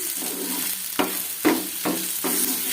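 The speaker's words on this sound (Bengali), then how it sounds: "এই যে পেঁয়াজ ভাজি করছি" Onions frying in a pan give a steady close sizzle, broken by four sharp stirring scrapes spaced roughly every half second to second, with no voices.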